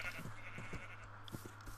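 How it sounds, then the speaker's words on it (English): A Minecraft sheep bleats softly, mixed low under a steady background hum, with a few short tapping sounds scattered through it. "And a white sheep, too."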